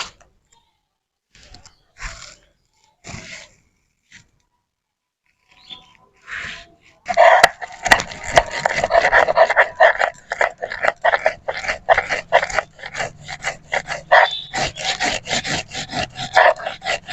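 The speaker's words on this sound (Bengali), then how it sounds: "এখন আমি মশলাগুলো একে একে বেটে নেব" Black mustard seeds and green chillies are ground by hand. A few sparse scrapes come first, then a loud, close, continuous rhythm of rasping grinding strokes.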